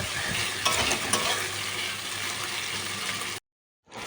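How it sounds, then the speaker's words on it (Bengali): Garlic and ginger paste sizzles and fries in a pan while being stirred, a steady loud crackle with scraping, cutting to silence near the end before resuming. "দিয়ে আরও বেশ কিছুক্ষণ নাড়াচাড়া করে নেবো।"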